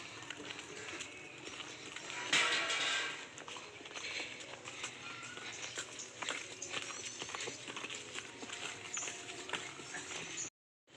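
Hooves of a horse named Betty clip-clop at a walk during a ride at a deer park in Aceh Besar, soft rhythmic steps under faint background noise with a brief louder burst early on.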